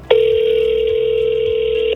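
A single outgoing-call ring tone on a telephone, one steady electronic tone lasting about two seconds, clear and close, with nothing else around it.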